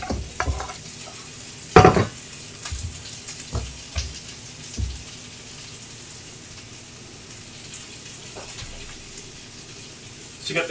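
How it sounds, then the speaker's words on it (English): NY strip steak sizzles in a hot pan on a stove after the heat has been turned off, a steady soft hiss punctuated by a few sharp clinks and knocks near the start. "So that's just continuing to sizzle in the hot pan."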